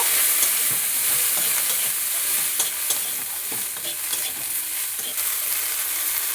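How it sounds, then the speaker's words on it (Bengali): Broccoli florets fry and get stirred in a pan of hot oil, a steady close sizzle with scattered scraping clicks of the spatula throughout, no voices. "এবারে বকুলিগুলো ভেজে নেব"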